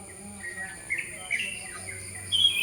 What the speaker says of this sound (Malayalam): കിളികളുടെ ശബ്ദങ്ങൾ നമുക്ക് കേൾക്കാം